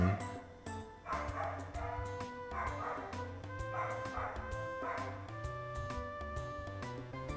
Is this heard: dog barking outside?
yes